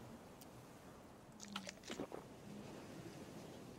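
Geralt eats a piece of food in The Witcher 3, giving a few soft wet bites and chewing squelches near the middle of the moment over a faint game ambience.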